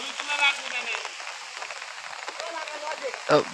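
Steady rain hisses throughout over jute fields while a voice talks over it, with a sharper knock near the end.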